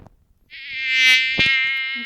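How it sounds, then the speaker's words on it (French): A synthetic mosquito buzz from the video game Plague Inc rises and holds steady as a loud, high whine with dense harmonics, joined by a brief thump near the middle, with no talking. "Moustique."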